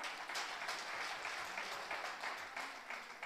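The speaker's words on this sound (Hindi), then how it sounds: "आप सब खड़े होकर के जोरदार तालियों से उनका स्वागत करेंगे" Audience applause at an international environmental conference in Dubai, a steady wash of clapping that sounds distant and faint, with no talk over it.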